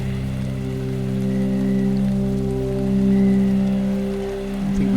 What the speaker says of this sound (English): feeling the rain getting heavier